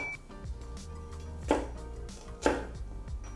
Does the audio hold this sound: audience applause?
no